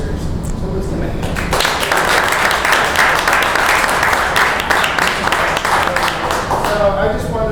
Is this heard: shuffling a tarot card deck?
no